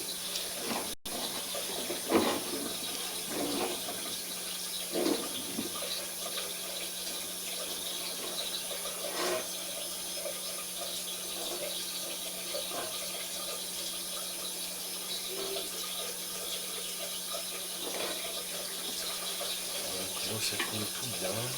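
Water runs through a sewer drain pipe in a constant faint rushing flow, distant and even, with a few soft knocks and faint muffled sounds throughout.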